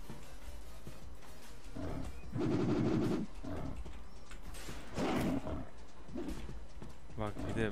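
Gunfire from an online video game comes in a few loud broadband bursts, mixed with roaring game effects and other noisy action throughout.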